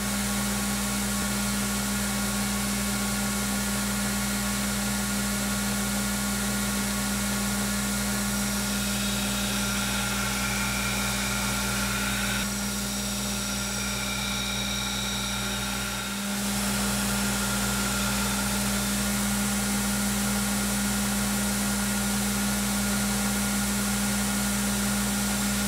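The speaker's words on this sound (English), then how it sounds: "Then I'll grind the bevels." Belt grinder grinding the bevels of a san-mai Damascus steel knife, a steady loud abrasive whine with a constant motor hum running throughout, the pitch shifting briefly partway as the blade presses against the belt.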